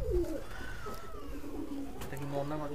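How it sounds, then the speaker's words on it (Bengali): Madrasi highflyer pigeons coo softly in a loft, with low rolling calls near the microphone while someone talks over them. "এটা নর পায়রা"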